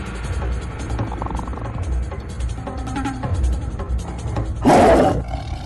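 A tiger roars loudly in a tense jungle film scene, a deep growling rumble swelling into a harsh roar near the end, over a low background of ambient noise.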